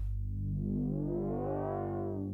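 A sustained synth tone whose filter slowly opens, brightening into a buzzy, resonant peak before closing again and cutting off abruptly.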